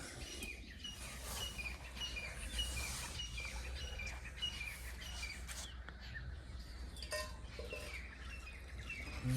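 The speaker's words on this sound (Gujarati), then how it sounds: "એકદમ મસ્ત અવાજ આવે ચકલોનો" Sparrows chirp in short, repeated bursts at a moderate distance against a noisy outdoor background, with faint other sounds around.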